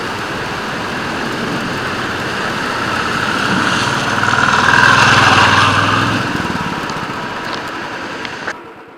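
A motorbike idles near a water crossing on the route to Kakoshang waterfall, its low, steady engine drone blending with rushing water, swelling a little midway before cutting off abruptly at the end.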